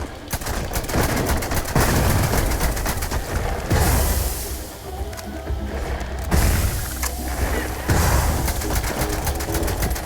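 Rapid hip-fired rifle bursts from the Despondent Assassin in Starfield, loud repeated volleys with short pauses between strings of shots and a steady background bed underneath.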